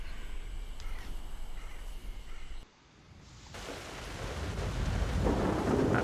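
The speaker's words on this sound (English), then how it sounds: "That'd be a bit tricky now it's raining." Steady rain with rolling thunder in the Forza Horizon 6 racing game, a constant wash of rainfall that briefly cuts out, then returns heavier and louder with a deep rumble building toward the end.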